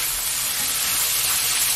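Small frozen chilge crabs are stir-fried over high heat in a pan, producing a continuous loud, even sizzle and hiss with no break.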